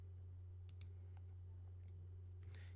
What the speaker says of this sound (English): So we're going to click on website.